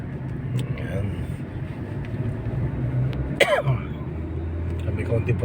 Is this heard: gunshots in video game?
no